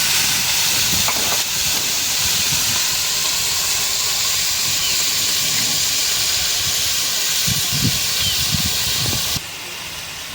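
Ginger-garlic paste sizzles in a hot pan while a snakehead fish dish is cooked, giving a loud, continuous hiss with a few low knocks underneath before it drops off near the end.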